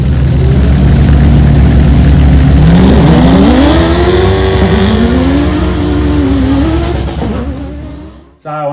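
Race cars at the start of the first heat on a Sunday race meeting, several engines roaring loud and close with rising, sweeping revs as they pull away, then fading out before a short loud burst at the end.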